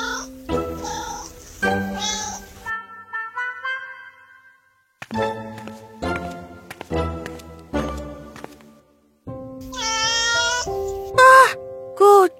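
Several drawn-out cat meows and yowls, loud and close, spread between pauses and mixed with tonal, voice-like sounds.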